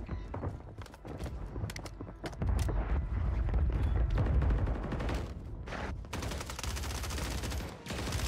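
Gunshots in a video game shooter, including pistol fire, with a series of sharp cracks and quick bursts over a rumbling game soundtrack, moderately loud.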